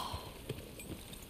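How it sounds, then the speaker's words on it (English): Horse hooves clip-clop faintly at a walking pace in The Last of Us Part II, a few soft, distant steps over quiet background ambience. "Oh, that's our horse."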